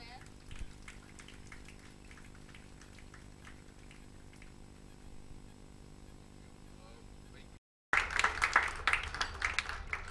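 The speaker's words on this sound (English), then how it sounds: "Can we have a huge round of applause for him as well?" An audience applauds publisher Kapish Mehra at an Indian book launch for a Veerappan book: a steady wash of clapping that cuts out briefly, then returns louder and denser.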